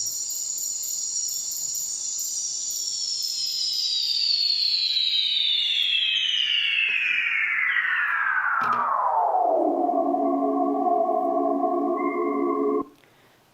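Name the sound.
slowed-down recording of Panama rainforest sounds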